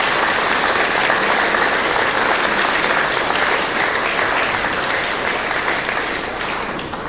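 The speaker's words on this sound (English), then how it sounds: "Big round of applause." A large crowd at a heritage festival event gives Peter and Margaret Howard a long, dense round of applause, steady and loud throughout before easing off slightly at the end.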